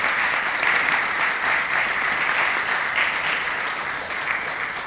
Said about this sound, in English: that first applause was just warming you up